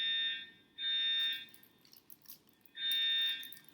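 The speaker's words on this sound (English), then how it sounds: "the house keeps getting alarms like this" A household fire alarm goes off in repeated shrill electronic bursts, three long beeps separated by short gaps, at a moderate distance with no talking.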